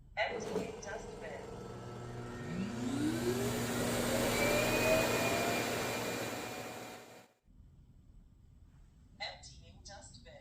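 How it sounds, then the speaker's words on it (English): A Roborock self-emptying dock empties a robot vacuum's dustbin with a loud, rising suction roar that runs steadily for about seven seconds and then cuts off abruptly, followed by quiet background noise. "Emptying dustbin."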